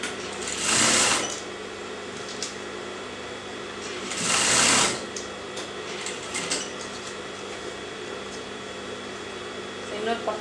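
A sewing machine stitches elastic onto an Anarkali dress in two short whirring bursts a few seconds apart, with a quieter steady background hum between them.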